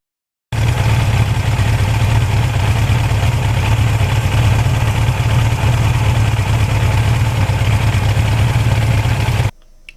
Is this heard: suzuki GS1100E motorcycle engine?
yes